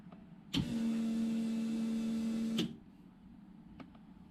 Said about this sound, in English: hear those fuel pumps